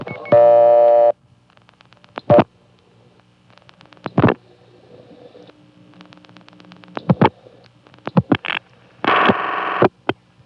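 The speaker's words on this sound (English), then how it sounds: "I'm able to reset the trunk and try different digits until I finally get what I'm looking for." A 1975 step-by-step telephone exchange switching as digits are dialed, opening with a steady tone and then loud bursts of rapid mechanical clicking separated by quieter pauses, ending in another tone and more clicks.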